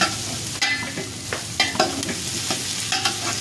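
Ginger sizzles in a hot pan for a chicken dish while a spatula scrapes and clacks against the metal in irregular strokes, close and fairly loud, with no talking.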